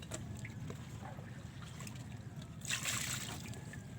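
Water being bailed out of a small fishing boat at sea, a soft trickle and splash that swells briefly near the end over a constant low rumble of water and boat.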